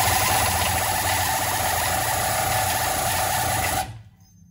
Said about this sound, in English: I'm going to use my air ratchet to spin this thing over